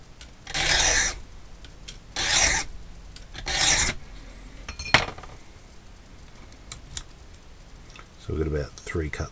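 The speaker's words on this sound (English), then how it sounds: "So the impression file makes it nice and easy." An impression file rasps across a key blank by hand in short, close, harsh strokes, three distinct bursts followed by lighter scraping and a final stroke.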